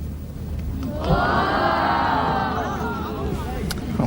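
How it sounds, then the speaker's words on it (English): A golf gallery around the 18th green lets out a broad sigh that swells into sustained cheering and applause as Greg Norman putts for birdie, a dense, fairly distant crowd roar. "There they cheer."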